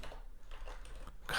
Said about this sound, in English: typing with taped fingers